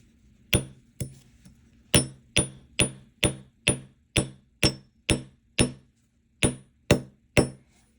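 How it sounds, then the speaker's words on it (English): Metal wire for a cuff bracelet struck with a hammer, about fourteen sharp, ringing blows in an uneven steady rhythm with a short pause, close and clear with no talking. "So I'm gonna hammer this side."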